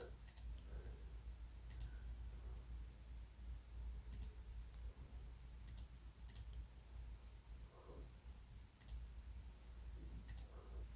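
Computer mouse clicking while working in an Excel spreadsheet, heard as sharp isolated clicks spaced a second or two apart, some in quick pairs, over a steady low hum with no talking.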